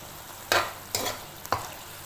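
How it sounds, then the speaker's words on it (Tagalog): Shrimp and carrots being stirred in a sizzling pan give three quick scraping sweeps of a spoon over a low frying crackle, close and distinct, with no talking. "hahaluin ulit natin mga kamaryon"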